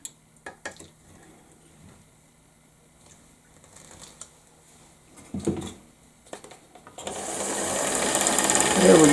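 A Wards Damascus rotary sewing machine gives a few faint clicks and taps before breaking into a loud, steady whirring run over the final two seconds, close by.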